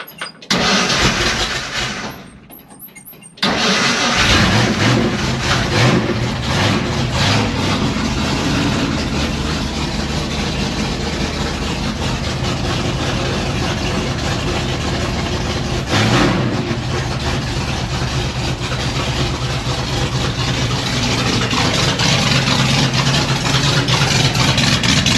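An International gasser truck engine with exhaust fitted cranks briefly, catches and fires, then settles into a loud, steady idle with a rough rumbling exhaust note that holds for over twenty seconds, no voices present.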